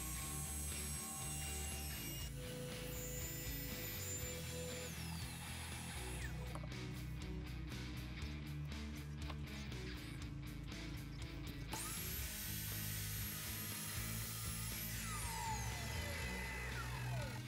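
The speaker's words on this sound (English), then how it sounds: "First off, I'm going to cut the walnut to final dimensions." Power tool cutting walnut boards to final size in a woodworking shop, a steady near whine that shifts pitch and runs continuously with no talking.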